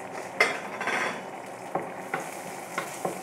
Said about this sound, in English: So I'm just going to add the whole spices.